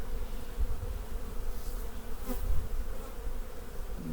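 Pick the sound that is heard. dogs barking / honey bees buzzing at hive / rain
honey bees buzzing at hive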